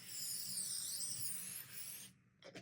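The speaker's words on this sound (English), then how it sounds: "I'm going to shake my 505 spray, and I'm going to spray liberally." 505 adhesive spray hisses onto quilt batting in one loud, continuous burst of about two seconds, then cuts off abruptly, followed by a short rustle.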